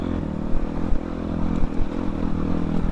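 A motorcycle engine labours uphill in third gear on a rough mountain road, a loud, steady low throb with small surges and some rattling clatter, close to the microphone.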